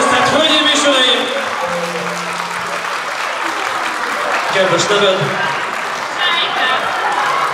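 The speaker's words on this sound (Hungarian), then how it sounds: "Már lehet tapsolni, tisztelt hölgyeim és uraim." Wedding guests applaud as the bridal party is announced, a sustained crowd of clapping hands filling the room at close range, with a few words spoken briefly over the applause.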